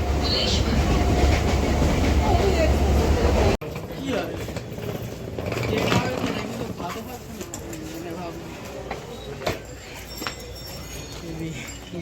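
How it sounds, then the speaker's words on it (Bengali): A train rumbles past with a loud steady roar that cuts off, followed by rattling and clanking of rail cars, with people talking nearby. "এই যে চলে এসছি ট্রেন গাড়ির সামনে"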